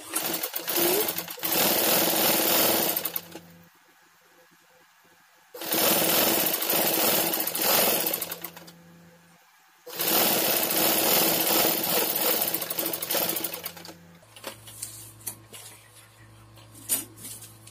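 A sewing machine stitches a kebaya sleeve in three long, loud runs with quiet pauses between them, close up, and a low hum continues at the end.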